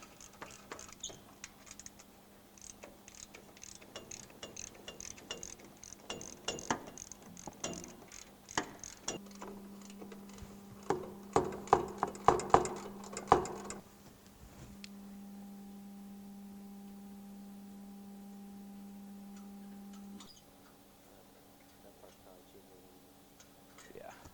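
A 14mm socket on a ratchet loosens the front bumper mounting bolts on a Lexus GX470, with quick ratcheting clicks in bursts followed by a steady whirring tone, close up, and faint talk in the background.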